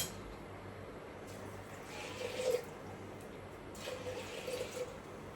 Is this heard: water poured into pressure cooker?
yes